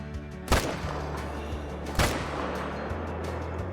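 Rifle shots fired at an alligator in the hunting game Call of the Wild, two sharp loud cracks about a second and a half apart, each followed by a short echoing tail over quiet ambient background.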